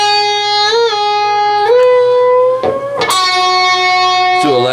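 A distorted electric guitar plays a slow lick of sustained notes, bending pitch up and releasing, with a slide into a higher bend, loud and close.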